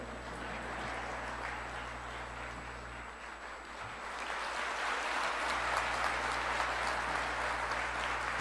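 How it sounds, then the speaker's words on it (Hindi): An audience applauding at a live talk: dense, steady clapping that holds throughout and swells louder in the second half. "बजा लीजिए तालियां जरा।"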